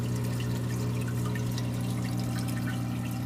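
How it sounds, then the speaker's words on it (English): Water from a paludarium waterfall, driven by the main pump, flows and trickles steadily over a constant low pump hum, a continuous close splashing wash with no voices. "main pump for the waterfall"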